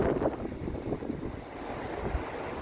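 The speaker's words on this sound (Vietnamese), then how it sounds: "trời gió và lạnh mưa nữa" Wind buffets a microphone outdoors on a cold, rainy day at a wedding, making a steady, rough rumble of gusts close up with no talking.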